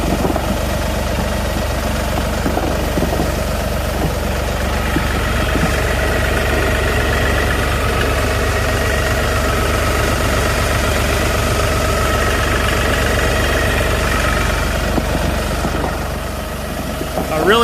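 An LS XG3140 compact tractor idles steadily nearby, its engine giving a continuous, even low rumble with a light knocking vibration throughout, with no other sounds standing out.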